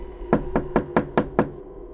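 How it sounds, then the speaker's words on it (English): Six soft, evenly spaced knocks on a door, muted and close, with a faint hum behind them and no voices. "A soft knock on my door."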